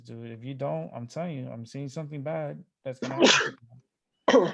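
A single sharp sneeze bursts out in the middle of a man's conversation about pain and doctor visits, loud and close, followed by a brief pause and another short burst as talking continues around it.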